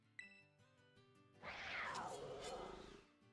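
A snow leopard creature growls in the video game Star Ocean The Second Story R, a rough, rising and fading cat-like snarl lasting under two seconds after a few soft game tones.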